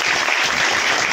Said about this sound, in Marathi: याच्यासाठी एकदा जोरदार टाळ्या